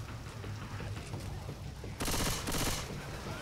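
A short burst of rapid gunfire from Left 4 Dead 2 cracks out over a low, steady background hum, loud and close, lasting about a second.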